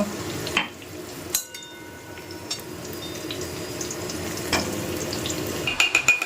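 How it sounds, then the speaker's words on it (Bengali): Potatoes fry in a pan with a steady sizzle and crackle, punctuated by a few loud clatters and scrapes of a utensil against the pan. "আলুটাও ভাজা চলছে"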